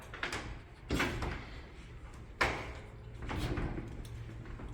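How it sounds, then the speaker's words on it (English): An elevator hoistway door slides partly open in a custom elevator shaft, with a series of metallic clunks, scrapes and rolling rumble, one sharp knock standing out among the mechanical handling noises. "So I'm only gonna open this door up part way because the elevator's not here,"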